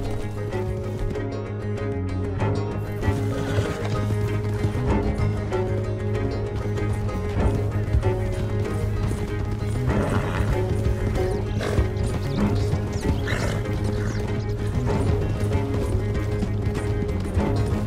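Horses gallop in Red Dead Redemption 2, a fast and steady clip-clop of hooves that runs the whole time, with occasional neighs and a rattle of tack over a constant loud mix.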